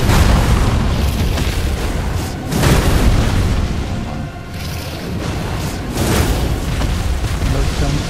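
Explosions from the action game Elden Ring: Shadow of the Erdtree, with loud booming bursts around two-and-a-half and six seconds over a steady, dense rumble of in-game noise.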